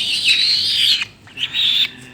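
A pet alap-alap falcon gives shrill, drawn-out calls near a house, two loud sustained cries separated by a brief gap.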